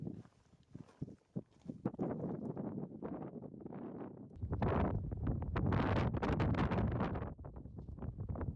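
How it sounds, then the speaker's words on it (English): Strong wind buffets a microphone on an exposed mountain summit pass, loud rumbling gusts building and roaring steadily through the second half. "It's really windy."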